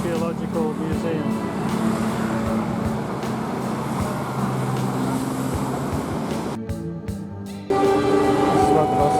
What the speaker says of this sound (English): the bus takes off from opposite the Geological Museum